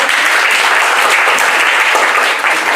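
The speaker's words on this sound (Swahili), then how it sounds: "Mataifa yote pigie Bwana makofi." A church congregation claps their hands together during worship, producing a loud, dense and unbroken wash of applause close by that keeps an even level throughout.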